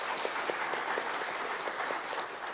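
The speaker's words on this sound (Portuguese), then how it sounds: "salva de palmas" Applause from the audience at a meeting of philosophy teachers in São Paulo, a faint, steady wash of clapping that holds evenly throughout with no voices on top.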